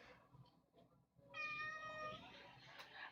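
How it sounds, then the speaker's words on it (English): A pet cat meows once, a clear drawn-out cry close to the microphone after a quiet stretch of faint room noise. "If y'all hear my cat meowing, just like ignore that"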